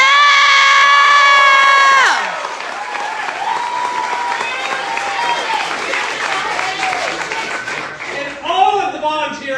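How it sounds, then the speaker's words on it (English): Election night campaign crowd breaking into loud applause and cheering, with shouts and whoops over dense clapping; an amplified voice runs over the start, then the crowd noise carries on loud and close. "how about a round of applause for our amazing volunteer coordinator"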